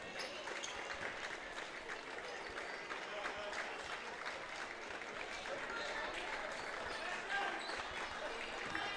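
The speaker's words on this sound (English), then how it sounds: "So the 5 starters will get an ovation from their fans that made the trip here." Fans who made the trip applaud the five starters at a KMAC girls' high school basketball game between Northmor and Fredericktown, with steady clapping and crowd noise filling the gym throughout and talk faintly underneath.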